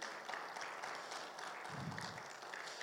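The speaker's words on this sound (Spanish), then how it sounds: "¿Cuánto le dan un fuerte aplauso al Señor," A church congregation at a Bible seminar applauds, a faint, steady spread of clapping heard from a distance, with a brief low rumble partway through.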